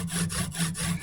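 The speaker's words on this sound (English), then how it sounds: "If you're sawing with your arborist saw" Arborist saw cutting through wood for an axe-handle wedge, a steady rhythmic back-and-forth rasp with about five strokes, close and fairly loud with no talk.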